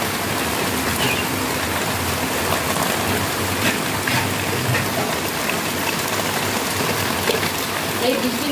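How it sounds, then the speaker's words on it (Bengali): Rain falls steadily outside, a continuous even hiss of drops on surfaces at moderate loudness throughout, with no other distinct sounds standing out. "আর এইদিকে বাইরে বৃষ্টি পড়ছে।"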